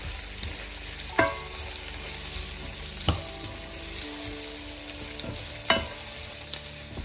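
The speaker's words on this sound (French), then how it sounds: "On éteint le feu et on mélange une dernière fois." Sichuan-style green beans stirred in a hot pan with a small drizzle of sesame oil, steady frying hiss throughout with three sharp utensil scrapes, close and fairly loud, no talking.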